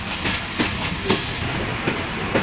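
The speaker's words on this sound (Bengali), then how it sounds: "সবসময় ট্রেন যখন চলতে শুরু করে তখন খুব ভালো লাগে" Rocket Express mail train running on the line from Khulna to Jessore, steady rumble with rhythmic clickety-clack wheel beats roughly every half second, heard close from onboard with no voices.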